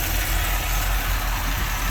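A truck engine with a non-stock camshaft and a 650 Holley spread bore double pumper carburetor idles loudly and close, a rough, steady rumbling exhaust throughout.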